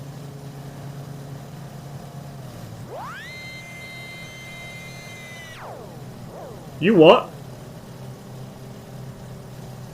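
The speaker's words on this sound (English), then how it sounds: "when you spawn in, the engine noise does some very strange stuff" Aircraft engine in Microsoft Flight Simulator, a steady low drone that suddenly rises into a bright whining tone for a few seconds and then drops back, followed by a short sharp warbling burst and a brief spoken remark.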